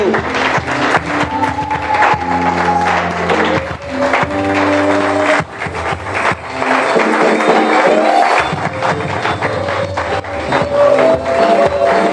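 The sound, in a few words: congregation applauding and acclaiming minister Gauthier Kumbu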